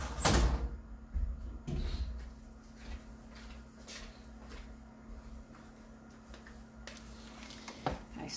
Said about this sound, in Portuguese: eu vou fechar a porta e a janela que dá para a rua